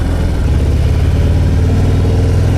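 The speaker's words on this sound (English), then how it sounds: "That's the Screaming Eagle exhaust for you." A Harley-Davidson FXDR 114 motorcycle with a Screaming Eagle exhaust rumbles steadily close by, a deep continuous engine note held at a constant level with no voices.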